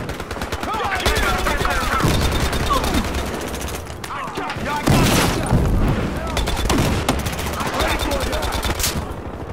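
A sniper shot in the video game Battlefield Hardline lands as a loud, sharp blast amid ongoing gunfire, while a voice talks over the action.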